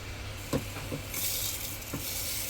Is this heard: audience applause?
no